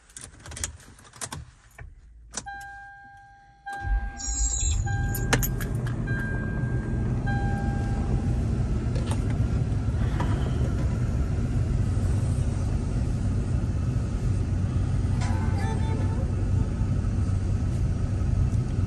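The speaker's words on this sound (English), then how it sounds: "Start the car." A Lexus LX 470 (Land Cruiser 100) with a V8 engine starts after a few clicks and chimes inside the cabin, then settles into a steady, close, low idle rumble.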